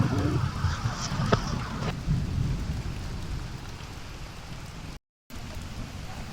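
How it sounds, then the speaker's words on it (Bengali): Heavy rain pours down in a steady, dense hiss close by, with a brief crack or knock early on and no speech, the wash of water continuing throughout. "দেখো কত বৃষ্টি হচ্ছে"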